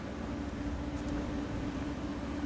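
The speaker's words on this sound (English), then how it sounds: "The S-Bahn train into Berlin." An S-Bahn commuter train running into Berlin, a continuous low rumble and hum of the carriage in motion, steady and close from inside the train.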